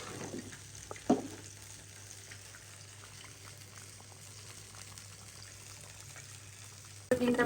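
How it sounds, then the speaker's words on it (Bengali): Eggs frying in a pan give a steady, soft hiss throughout, broken by a sharp knock near the start and a louder burst at the end. No one speaks. "ডিমটা ভাজা হয়েছে, খুব বেশি ভাজা যাবে না"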